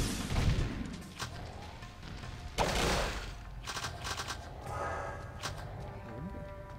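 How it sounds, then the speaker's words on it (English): Enemies firing grenades in the video game Jak II, inside a cave: several sharp bursts and booming blasts, with rattling shots and game noise between them and a little talk over the top. "these guys shoot grenades!"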